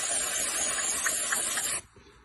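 A can of non-oil-based multi-purpose lubricant sprays in one continuous close hiss into a Husqvarna K760 cut-off saw's pull-cord housing, cutting off sharply after almost two seconds.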